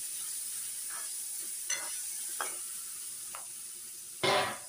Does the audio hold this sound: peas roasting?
yes